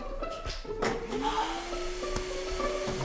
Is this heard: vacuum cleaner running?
yes